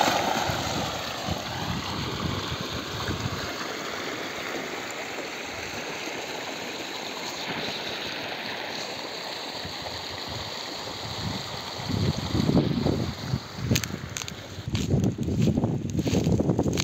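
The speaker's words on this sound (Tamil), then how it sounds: "3 HP motor, single piece motor இந்த தொட்டிக்குள்ளே போட்டுக்கிறோம்." A 3 HP single-phase electric motor pumps water into a farm pond tank, giving a steady broadband rush of flowing water that holds throughout and swells louder near the end.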